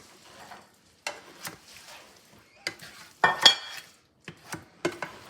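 Cream cheese and spinach being mixed for a casserole, heard as a series of short, close scraping and clinking strokes of a utensil against a bowl, spaced irregularly with quiet gaps between them.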